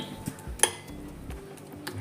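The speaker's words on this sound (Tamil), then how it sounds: "2 முட்டையை உடைச்சி ஊற்றிட்டு நல்லா மிக்ஸ் பண்ணிக்கலாம்." Two broken eggs mixed with chopped onion and chillies in a bowl, a sharp utensil clink standing out among soft scraping and stirring clatter, close and fairly quiet, with no talk.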